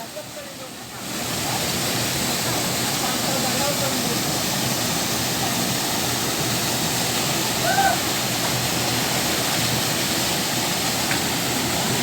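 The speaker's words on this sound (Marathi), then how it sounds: "लोक धबधब्याच्या जवळ पोचले" A waterfall roars as a steady, loud broadband rush that swells in after the first second and holds unbroken near a village swimming spot.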